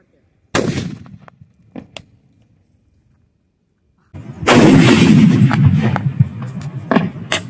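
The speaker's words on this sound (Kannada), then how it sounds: "ಈ ಆಟಮ್ ಬಾಂಬಿಗೆ ನಿಜವಲ್ಲೂ ಹೊಡೆದೋಗಿದೆ." A loud sharp crack from an atom bomb firecracker set on a coconut rings out near, followed by faint scattered pops, then a long dense roar of crackling noise that fills the final seconds.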